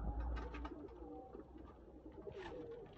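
Sialkoti breeder pigeons cooing close by, a series of soft, rolling coos repeating over about three seconds against a quiet background.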